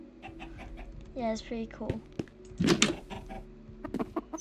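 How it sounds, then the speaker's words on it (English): Chickens cluck in a Minecraft farm, with several short game clucks and squawks in quick succession, close and moderately loud, under a person speaking softly. "I just trapped a chicken in here,"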